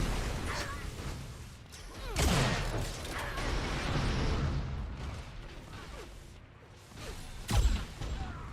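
Flak cannon fire rings out in a 4v4 Unreal Tournament 4 match as several sharp bursts, pops and metallic impacts spread across the scene, some close and loud, mixed with other weapon effects and a caster talking over them.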